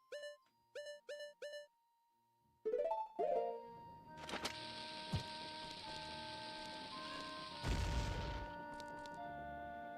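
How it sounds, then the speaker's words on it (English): In Zelda: Ocarina of Time, a bomb blows open a blocked passage: short chiming game tones and a rising fuse-like whistle lead into a deep, booming blast, followed by lingering sparkly effects. "let me see if I can bomb it open"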